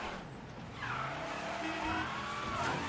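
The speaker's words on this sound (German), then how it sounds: "Der Verkehr hier manchmal in diesem Spiel ist furchtbar." Video game traffic in Mafia 3, with cars skidding and tires squealing in long, wavering screeches over a steady background of street and engine noise.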